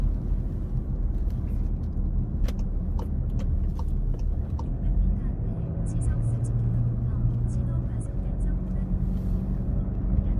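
A car drives along national road 6 through Incheon, giving a steady, continuous road and engine rumble from inside the vehicle with no clear breaks.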